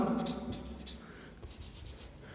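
Chalk or marker writing on a classroom board during a Hindi engineering lecture on gear trains, with short scratchy strokes in bursts, close and moderately loud, with a low hum and voice underneath.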